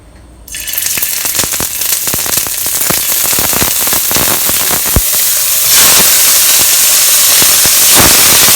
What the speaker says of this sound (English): You now put in and pan fry these scallops.